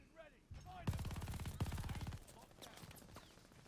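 MG 42 machine gun in Call of Duty: Vanguard firing two rapid, sustained bursts of closely spaced shots, loud and close, with scattered game sounds and faint voices around them.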